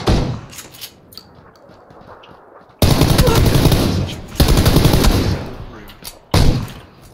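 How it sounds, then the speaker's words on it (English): Bursts of automatic gunfire in PlayerUnknown's Battlegrounds: a quieter stretch of scattered shots, then three loud sustained volleys, the last one short, with faint talk underneath. "Somebody just shot at me."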